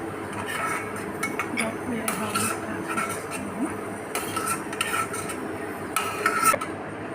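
Fried peanuts are scraped and tipped from a pan into a bowl for a dosa chutney, with metal stirring, scraping and light clinks of utensil against cookware in short bursts, close and fairly loud.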